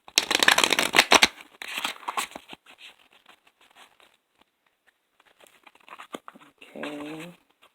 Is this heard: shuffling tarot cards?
yes